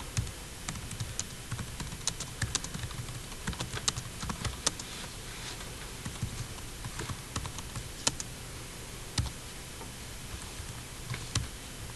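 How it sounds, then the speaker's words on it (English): Fingers tap steadily on a computer keyboard for twelve seconds. The close, crisp clicks come in uneven bursts, and a few louder key strikes stand out over a quiet room background. "if I just type stuff in like this"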